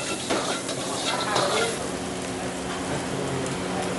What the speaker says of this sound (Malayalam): നന്നായിട്ട് സോട്ട് ചെയ്യുന്നുണ്ട്.